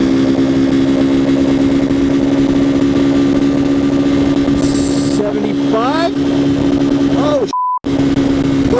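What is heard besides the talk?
CSC TT250 motorcycle engine roaring at top speed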